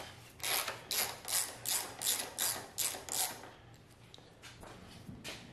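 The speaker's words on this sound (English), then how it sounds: "The next step is to loosen up the triple clamp" A ratchet loosening the triple clamp on the right fork of a 2000 Honda GL1500C Valkyrie motorcycle, giving a run of about eight rhythmic clicking strokes up close, then fainter, slower clicks trailing off.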